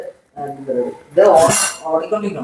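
A pot lid is lifted off a fish curry made with seer-type fish (kalanji) in ground coconut gravy, left covered to boil at home; a metallic clank and scrape of the lid, followed by bubbling and clatter, with no talk.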